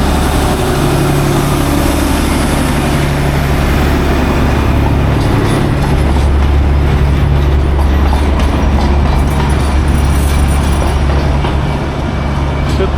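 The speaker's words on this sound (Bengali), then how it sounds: "ফাইনালি টয় ট্রেনের দর্শন পেলাম তাও যেটা পেলাম সেটা হলো তোমার একদম স্টিম ইঞ্জিনেরটা" A loud, steady steam engine of a Darjeeling toy train chugs and hums continuously, close by, with a low droning rumble and faint clanking running throughout.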